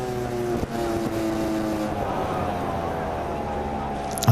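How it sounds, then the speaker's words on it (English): Onboard sound of Pedro Acosta's KTM MotoGP motorcycle at the Catalan GP, with a steady tonal engine note that shifts in pitch over a few seconds under a constant roar of wind. "Let's listen to Pedro Acosta's KTM."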